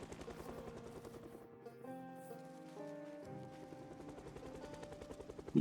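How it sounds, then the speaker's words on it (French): A helicopter in the video game Project Zomboid flies overhead with a rapid, chopping rotor thump, faint and steady for several seconds, as tonal game sounds briefly rise and fall over it. "L'hélicoptère persiste."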